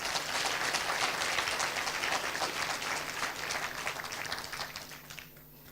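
Hearty audience applause at a World Intellectual Property Day celebration, dense steady clapping from a crowd that holds throughout and tapers off at the end.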